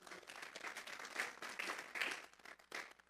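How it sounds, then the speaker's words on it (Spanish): A church congregation breaks into applause during a Spanish-language sermon on healing, a steady wash of many hands clapping at moderate distance with no talking over it. "Vamos a darle un fuerte aplauso pues al Señor."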